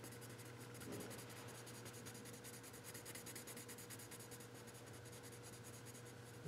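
A skin-tone marker colors in a cartoon drawing, giving faint, continuous scratchy rubbing strokes over a low steady background hum, close and quiet, with no talking.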